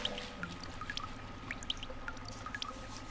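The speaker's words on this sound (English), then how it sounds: "I can hear the water dripping off of him as he climbs out of the river" Water trickles and drips off a man as he climbs out of a river in a video game, a soft steady pouring with scattered small splashy drips close by.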